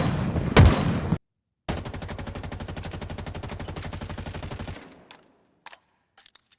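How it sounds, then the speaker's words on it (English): Halo Infinite weapon fire: one sharp, loud shot, then a rapid, sustained automatic burst of about three seconds that trails off into a few faint clicks. "Most gun sounds in this game, apart from the bandit, sound off and almost cartoonish"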